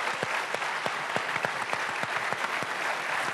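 Audience at a business congress round table applauds, a dense, moderately distant clatter of many hands with a few sharper individual claps standing out, steady throughout.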